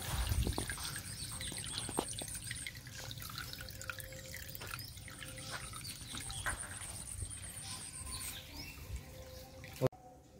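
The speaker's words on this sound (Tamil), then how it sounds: "அடியில் இருந்து தான் ஊறுது ஊறி தண்ணி இதில் வந்துக்கிட்டே இருக்குது" Spring water seeping and trickling out of the ground at Kanjamalai near Salem, a steady close drip and trickle with scattered small splashes, alone without talk.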